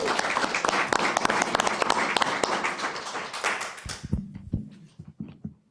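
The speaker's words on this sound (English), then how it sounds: "So a big round of applause to Nan and her staff for their hard work." Audience applause for a city department head and her staff at a city council meeting in Oldsmar, dense steady clapping that thins out and fades into a few scattered claps near the end.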